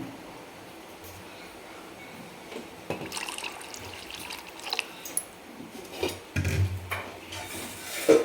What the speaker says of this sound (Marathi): थोडंसं गरम पाणी सोडून घेणार आहे मी.